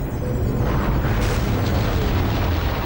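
One of the most powerful rockets ever built thunders at launch, a dense, continuous low roar with crackling rumble that stays loud and steady throughout.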